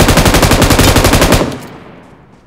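An M249 light machine gun fires a long, rapid, loud burst in a PUBG match, each round snapping in a steady stream for about a second and a half before the echo and tail fade out.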